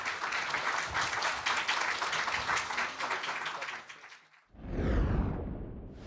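A standing ovation from the audience at a Korean Zen Buddhist dharma assembly in Dallas: dense, loud applause fills the first four seconds, then a brief dip and a swell of crowd noise with an indistinct voice.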